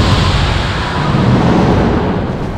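A fireball bursts into a loud explosion in the fantasy game Blackguards 2, a dense roaring blast that fills the short moment with broadband rumble and slowly tapers off.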